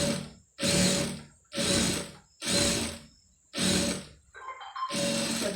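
Sewing machine stitching thread piping onto cloth, running in five steady bursts of about a second each with short pauses between, loud and close with a whirring mechanical drone and no talk.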